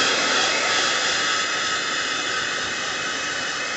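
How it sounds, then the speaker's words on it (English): An airbrush blows a steady, loud, hissing stream of hot air to dry fresh paint on a model, a continuous rushing whoosh lasting several seconds with no voices. "Take your airbrush, put that hot air on there."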